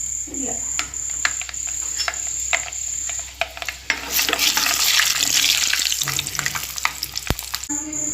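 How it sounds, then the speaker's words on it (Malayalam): Chopped ginger and garlic fry in hot oil in a pan for a fish curry, a close steady sizzle with stirring clicks and a high thin whine running through it. "അരിഞ്ഞു വെച്ചിരിക്കുന്ന ഇഞ്ചിയും വെളുത്തുള്ളിയും ഇതിനകത്തോട്ട് വേണം"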